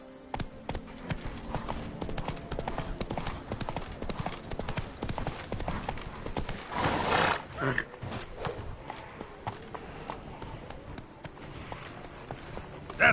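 Roach the horse galloping in Witcher 3, with a rapid, steady clip-clop of hooves throughout and a brief louder neigh or burst midway, over game ambience and no talk.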